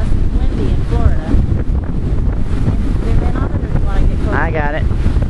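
Strong gusty wind buffets the microphone at a Florida beach shore, a rough roaring rumble, with faint voices and a few brief higher sounds over it.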